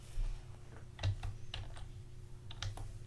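Quiet typing on a computer keyboard, a few scattered soft key clicks and taps over a low background hum.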